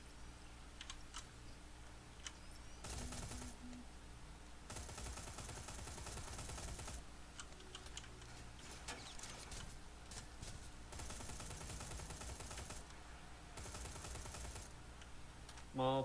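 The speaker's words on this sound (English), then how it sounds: "pumping a load of bullets into them does tend to annoy them" Bursts of gunfire in the video game Terminator: Resistance, several sustained volleys of rapid shots spread across the stretch, loud and close, with game ambience between them.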